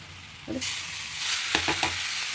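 A spoon stirs grated totapuri mango into chitranna, a lemon-yellow rice dish, in a pan, with a soft scraping and a quiet sizzle. A short clatter comes midway, followed by a few brisk strokes near the end.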